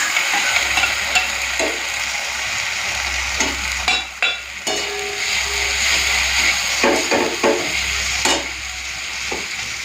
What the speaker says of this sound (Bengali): পেঁয়াজটা লাল করে ভেজে নিয়েছি পোস্ত বাটাটা দিয়ে দিচ্ছি এখন